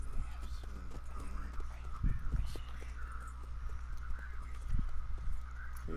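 Horse hooves clip-clop at a walking pace in Red Dead Redemption 2, a few clear hoof strikes rising over a low steady background hum, with quiet talk around them.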